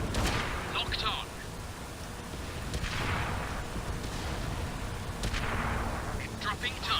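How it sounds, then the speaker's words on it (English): Enemy artillery shells land in World of Tanks on Xbox, several booming blasts with long rumbling decays spaced a few seconds apart over a constant battlefield bed, fairly loud. "We're being targeted by enemy artillery."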